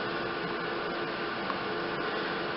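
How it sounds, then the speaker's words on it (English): A small Jamberry nail wrap heater running indoors, giving a steady, fairly quiet fan-like whir and airy hiss with no change throughout. "this is the Jamberry heater"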